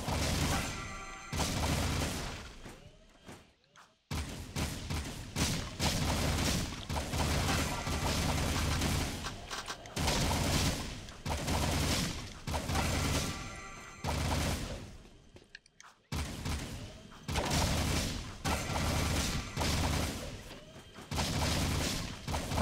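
Beam Rifle fire from Jak 2 HD Remastered, a loud, dense run of blasts and booming impacts with two brief silent gaps, playing under a game soundtrack.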